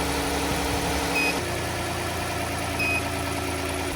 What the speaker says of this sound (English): now it's telling us to start engine